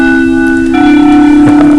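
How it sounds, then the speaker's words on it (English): A school class bell ringing loud and continuous, a steady sustained electric tone that swells in intensity partway through, close and dominating with no talk. "That's the bell."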